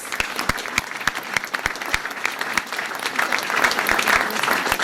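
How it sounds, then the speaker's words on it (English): Applause from an audience at a school board of education meeting honoring a student team, a dense steady round of clapping that swells slightly toward the end, with a few louder close claps standing out. "Give them a round of applause."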